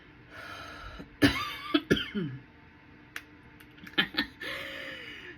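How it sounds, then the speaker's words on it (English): Several sharp coughs come in uneven bursts, close and fairly loud, with a throat-clearing sound and quiet pauses between them. "Made me cough."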